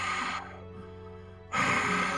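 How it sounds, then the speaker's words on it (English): A tall figure in the Darkwood video game breathes heavily in two loud, rasping breaths. A quieter pause separates them, and the sound is close and alone with no talk. "I can only hear the heavy breathing"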